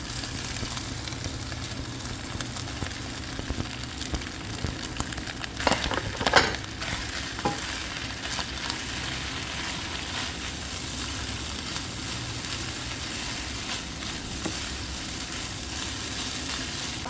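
Hotdog and mushroom frying in oil with liver spread in a pan, a steady close sizzle throughout with a brief burst of stirring clatter partway through.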